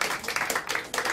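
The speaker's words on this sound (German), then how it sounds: "Ruhig mal klatschen" Audience applause after a host praises a mixing console at a live cultural stage show in Schwerin, a steady patter of many hands clapping at moderate distance, continuous throughout.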